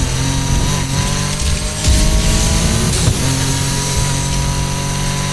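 A car engine in the video game Need for Speed Heat revs loudly and continuously, its tone rising and falling with bursts of acceleration, close and without any voices.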